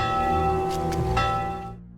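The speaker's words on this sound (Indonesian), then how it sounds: "Lalu sesegera mungkin dia membunyikan lonceng sebagai tanda bahaya." A warning bell rings out in a dramatic film scene, a single resonant metallic strike with a long ringing tone, overlaid by a few faint sharp accents, then fades away into silence.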